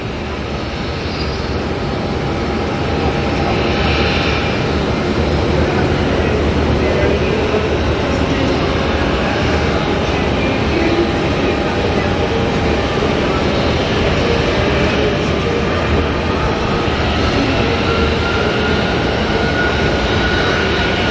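Boeing 777 touching down at Auckland Airport, a sustained heavy roar and rumble of engines and rolling gear heard from a distance, steady and broad for about twenty seconds.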